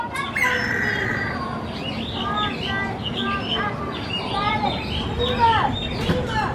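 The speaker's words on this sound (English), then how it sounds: "Got some birds." Birds chirp and call in short, repeated bursts at Zoo Atlanta, with a steady crowd murmur and people talking beneath them throughout.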